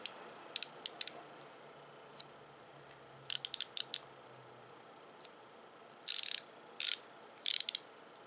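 Bursts of rapid clicking from a Taiwanese ratchet wrench turning against moderate back drag, heard close and crisp in separate quick runs with quiet pauses between them.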